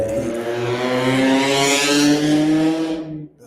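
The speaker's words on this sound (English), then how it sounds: "damn, fucking cars be loud as shit." A loud car passes outside with its engine revving hard, a strong droning roar that builds, holds and then quickly fades away at the end.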